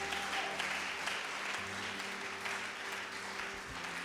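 A church congregation claps together in sustained, even applause that fills the room and stays at a steady level throughout.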